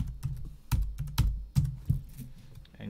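A password is typed on a computer keyboard, close up: a quick run of soft key taps with a few firmer presses standing out.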